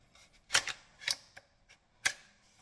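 The bolt being removed from a Derya Carina pump shotgun, giving a few sharp metallic clicks and clacks spaced unevenly, close but fairly quiet, with no talk.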